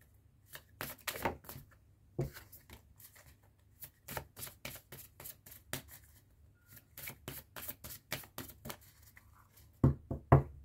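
Tarot cards are shuffled and cut during a reading: a string of crisp, close riffling and tapping bursts in an uneven rhythm, ending with a few sharper snaps as the deck is cut.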